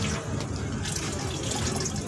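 Water splashes and trickles at a street chaat stall behind an Ambedkar statue in Balaji Nagar, a close, steady wet stream with faint drips, alone without talk.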